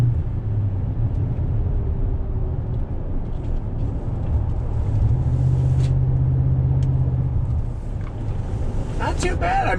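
A 2019 Toyota Tundra TRD Pro on off-road Michelin tires rumbles through a right-hand bend, a steady low engine and road drone with some wind buffeting throughout, close and continuous.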